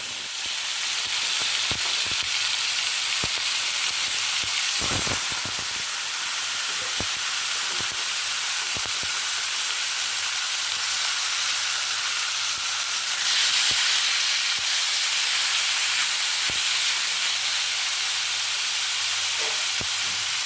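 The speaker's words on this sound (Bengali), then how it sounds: "তেল গরম হয়ে গিয়েছে, তাই এখন আমি এর মধ্যে ছেড়ে দিচ্ছি আগে থেকে ম্যারিনেট করে রাখা চিকেনের পিসগুলো" Marinated chicken pieces dropped into hot white oil fry with a steady, loud hiss and sizzle that runs throughout, broken by occasional crackles and pops, with no talking.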